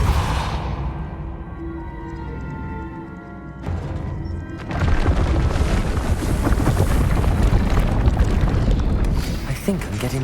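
A Depulso spell cast in Hogwarts Legacy: a soft magical hum gives way to a sudden whooshing blast that swells into a loud, sustained rushing roar, close and full, running to the end.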